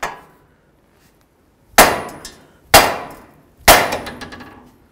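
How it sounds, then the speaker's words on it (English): A hammer strikes a steering knuckle three times to free the outer tie rod end on a 2008–2018 Chrysler Town & Country, each blow a sharp ringing metallic clang that decays quickly, close and loud with quiet gaps between. "Next, we're gonna bonk right here on the knuckle with our hammer."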